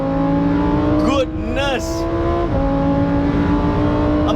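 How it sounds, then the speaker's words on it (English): Lamborghini Huracan STO engine revving hard on a racetrack's back straight, loud and close with rapid rising and falling sweeps, a voice exclaiming briefly over the roar. "the engine revs so quickly"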